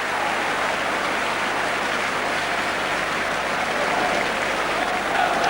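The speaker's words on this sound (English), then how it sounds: "So applause from the shed" Football crowd applauding from the stands at a Chelsea v Spurs match, a steady, dense wash of clapping and crowd noise that stays loud and even throughout with no break.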